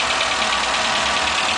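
A 1996 Renault 19 with the 1.4-litre petrol Energy engine runs steadily, a loud, even idle hum with a buzzing mechanical edge and no talk over it.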